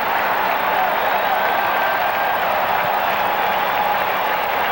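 A capacity baseball crowd of over 45,000 at Atlanta's Fulton County Stadium gives off a dense, steady roar of cheering and clapping that holds at one level throughout.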